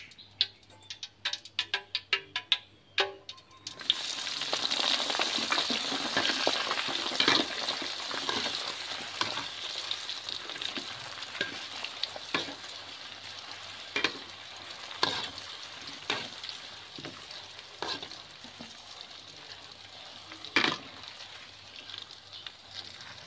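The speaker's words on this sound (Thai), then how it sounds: "ทีนี้เอามาพัดกันเลยนะเจ้าตั้งกระทะเทน้ำมันลงไปนิดหน่อยนะเจ้า" Eggplant sizzles and spits in a little hot oil in a wok as it is stir-fried, a steady loud frying hiss with sharp utensil clicks scattered throughout, preceded by a few seconds of quieter clatter.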